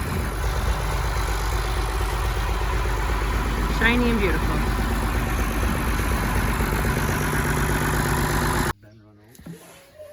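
A farm tractor sits idling nearby, its steady engine rumble running continuously beneath a voice talking, before cutting off near the end.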